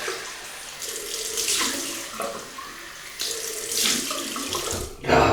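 Tap water runs into a sink while a Muhle R41 Twist safety razor is rinsed between shaving passes, a close, steady splashing that swells and fades as the blade moves through the stream.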